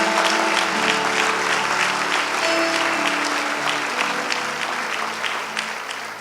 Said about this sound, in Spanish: Dale un fuerte aplauso a Cristo Jesús.